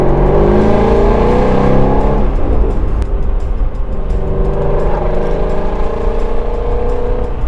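A loud, throaty Ford GT350R engine revs and holds around 3,500 rpm, its pitch rising and falling in waves, close and continuous.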